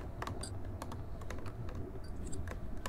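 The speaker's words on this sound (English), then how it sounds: "What's the typing?" Keys clatter in quick irregular bursts over a steady low hum in the Backspace video game, the typing close and fairly soft with no voices.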